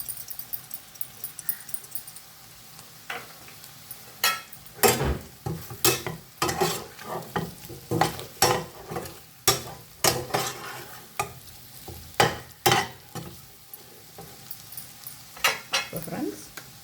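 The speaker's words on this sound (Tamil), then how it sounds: "இப்போ நல்லா வதக்கணும்." Food with salt and pepper stirred and sautéed in a pan, with a soft sizzle underneath and regular sharp clinks of a utensil against the pan repeating about once a second, close by.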